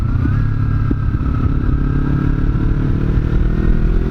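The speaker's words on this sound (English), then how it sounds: "It's you can't beat being on a bike, really." A motorcycle on its first ride of 2017, heard from the rider's position: a steady, loud engine drone with wind rumble and clatter, holding an even pace throughout, with no talking over it.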